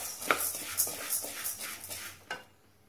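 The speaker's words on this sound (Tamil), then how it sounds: "இந்த பக்கம் உளுந்து வறுத்துட்டு இருக்கேன்" Urad dal being dry-roasted and stirred in a pan, giving soft scraping, shuffling and light clinking from a spoon against the metal in irregular strokes, fairly close and quiet, with no voices.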